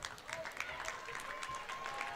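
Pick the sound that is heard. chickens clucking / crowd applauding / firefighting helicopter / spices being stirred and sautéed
crowd applauding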